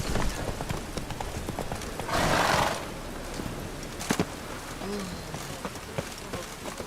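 Hooves of the horse Roach clip-clop on the ground in The Witcher 3 video game, a steady trotting rhythm with a brief louder burst of movement and faint ambient game sound.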